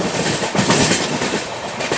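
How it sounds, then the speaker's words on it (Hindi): Rajdhani Express train wheels clacking steadily over the track during a journey, a loud continuous rumble with rhythmic clickety-clack beats and no voices. "ट्रैक साउंड बड़ा ज़बरदस्त आ रहा है इस जर्नी में"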